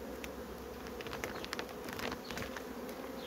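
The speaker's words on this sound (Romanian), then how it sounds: "Albina e cu poftă de lucru." Honeybees drone around an apiary hive during a strong nectar flow, a steady faint hum with close wingbeats passing now and then, no voices.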